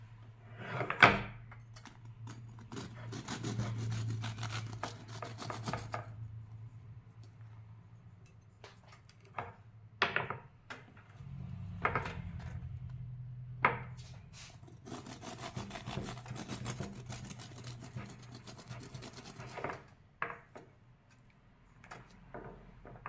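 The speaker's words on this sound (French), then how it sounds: "avec un couteau à scie, je vais le régulariser." A serrated knife saws through the edge of a thin baked Easter marble cake to level it, giving repeated soft rasping, scraping strokes in uneven bursts, close by with no talking.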